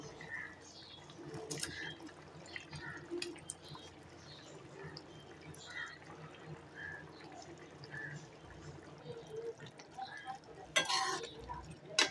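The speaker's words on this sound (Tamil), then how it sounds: "இது நல்லா கொதிக்கட்டும்." Soft, steady bubbling and gurgling of a thick bitter gourd curry simmering in a pot, quiet and close, with faint kitchen noise.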